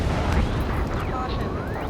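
Gunfire and roaring jets from the combat video game Ace Combat 7 Skies Unknown, a dense, sustained rumble of explosive bursts and sweeping jet engine whooshes filling the whole stretch, with voices speaking over it.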